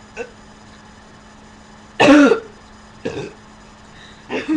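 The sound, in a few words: cough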